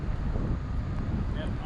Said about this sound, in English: It's getting windy too.